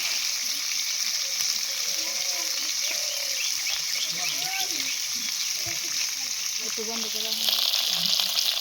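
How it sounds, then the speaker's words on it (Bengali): Turmeric-and-salt-coated rui fish pieces keep frying in hot mustard oil, giving a continuous dense sizzle and crackle, with faint low voice-like murmurs in the background and a few brief scrapes as the pieces are turned. "উল্টে পাল্টে কিন্তু এপিট এপিট করে ভালো করে ভেজে নেব মাছগুলো লাল লাল করে।"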